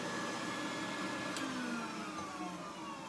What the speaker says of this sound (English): That's another vacuum, Bob?